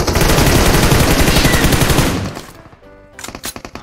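Sustained automatic gunfire in PUBG Mobile hammers loudly and continuously for about two seconds, then fades and gives way to a few separate, sharper shots near the end.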